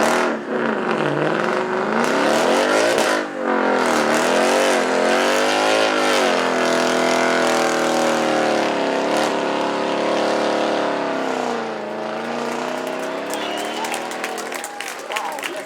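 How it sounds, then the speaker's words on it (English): Car doing a tyre burnout at Beaulieu Supercar Weekend, a loud sustained engine roar with rising and falling revs and a screeching wail, crowd noise and applause mixed in, heard from the spectator area. "let's see if he's going to do a burnout"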